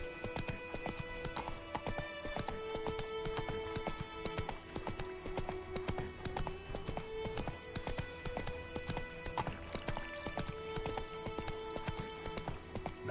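Roach the horse's hooves clop in a rapid, steady galloping rhythm in The Witcher 3, with a faint whinny and a thin game music bed underneath, continuous and close for the whole stretch.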